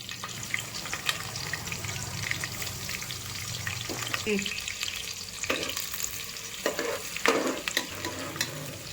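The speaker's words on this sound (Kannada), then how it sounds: "ಈರುಳ್ಳಿ ಚೆನ್ನಾಗಿ ಫ್ರೈ ಆಗಲಿ ಕಂದು ಬಣ್ಣಕ್ಕೆ ಬರಲಿ" Onions and curry leaves sizzle in hot cooking oil, a steady close frying hiss broken by scraping stirs and spoon clinks on the pan throughout.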